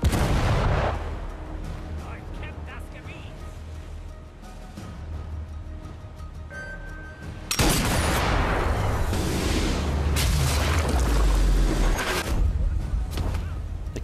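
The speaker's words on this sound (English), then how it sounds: "The gun began to fire." Gunfire and heavy booming blasts in Sniper Elite VR: Winter Warrior, played on Meta Quest 3, loud and dense, with a sharper, louder burst of shots and rumble in the second half.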